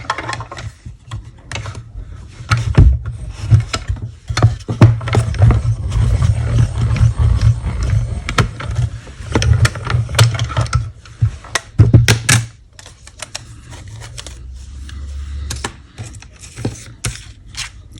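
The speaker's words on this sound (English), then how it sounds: "And I'm going to cut my images out like so." Scissors snip through patterned cardstock to free small printed card images, a run of close, crisp cuts and paper rustles arriving in irregular bursts before a quieter stretch.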